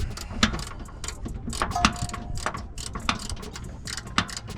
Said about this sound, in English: we got this bolt out with ease